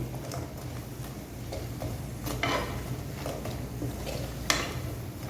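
Masala peanuts being fried in a little oil are stirred in a pan, with a spatula scraping and tapping in an irregular rhythm over a low, constant frying hiss.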